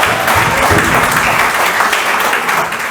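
Loud, dense applause from a comedy-show audience fills the whole stretch, steady and close with no pauses.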